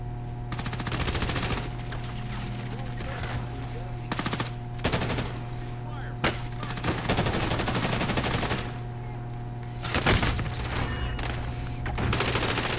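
Rapid automatic gunfire from a PS4 online shooter game, dense sustained bursts over a steady hum with scattered louder shots and brief gaps, a player's voice occasionally audible underneath.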